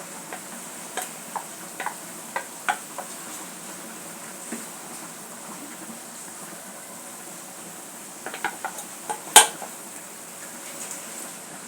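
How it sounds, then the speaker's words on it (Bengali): A pot of rohu fish curry simmers quietly with faint ticking, then one sharp metallic clink rings out as the lid is set on the pot. "এবার আমি আবার ঢাকনা দিয়ে দিই"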